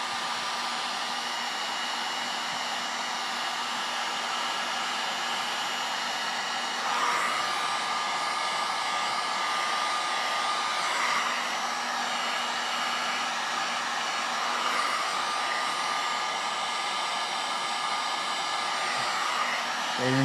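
Up close, a heat gun roars steadily while shrinking heat shrink tubing on wire connectors for an LS swap fuel pump in an 87 squarebody Chevy, its constant airy whine shifting slightly as it moves, with no voices.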